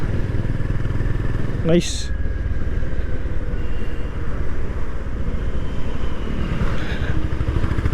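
A Honda CB 350RS motorcycle pulls hard in third gear with a steady, loud engine drone running throughout, while a rider speaks briefly over it.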